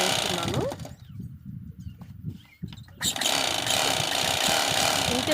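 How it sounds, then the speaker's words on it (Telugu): A sewing machine runs in loud, rapid bursts while stitching a folded edge on a blouse elbow sleeve, with a short pause mid-clip before the motor drives on continuously. "ఫోల్డింగ్ చేసి స్టిచ్ అయితే వేస్తున్నాను చూడండి"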